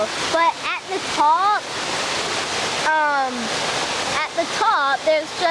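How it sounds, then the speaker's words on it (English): A humongous waterfall gives off a steady, loud rushing roar that runs the whole way through, while someone talks excitedly over it. "a humongous waterfall comes"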